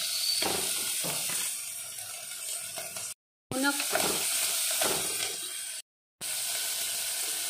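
Cubes of meat sizzling in a pan for spaghetti sauce, a steady close frying hiss with scattered stirring clatter and brief gaps of silence, a voice talking over it at times.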